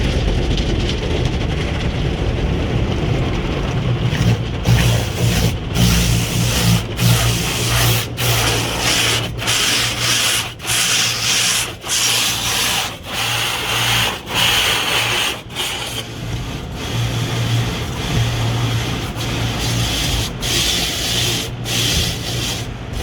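An automatic car wash works over a 2019 Ford Edge Titanium, with a steady rushing, rubbing wash of water and brushes heard from inside, broken by regular thumping pulses and a low hum throughout.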